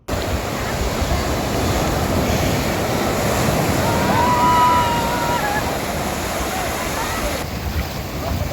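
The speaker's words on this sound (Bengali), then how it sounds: "কোথাও বা শান্ত স্নিগ্ধ সমুদ্রের ঢেউ" Sea waves roll onto the shore at Bakkhali beach, a steady broadband wash with wind noise on the microphone, continuous and fairly loud throughout.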